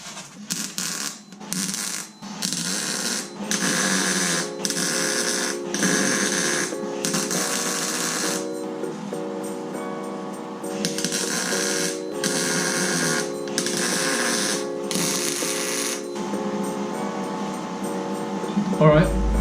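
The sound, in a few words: welder making cold tack welds on R32 GTR jig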